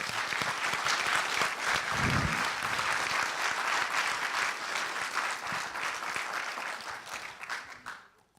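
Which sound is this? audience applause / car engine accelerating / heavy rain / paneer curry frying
audience applause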